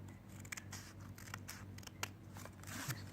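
Scissors snip through folded fabric for a Sindhi appliqué dress design, a quick uneven series of crisp close cuts over a low steady hum, no talk.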